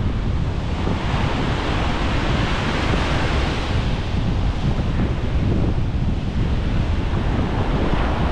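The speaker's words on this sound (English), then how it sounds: "Still a lot of big waves." Big ocean waves crash continuously on the Montauk shore, a loud, steady roar of surf and white water with heavy wind buffeting the microphone and no voices.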